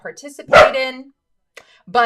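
A dog gives a couple of loud, close barks in a room, breaking in between a person's speech.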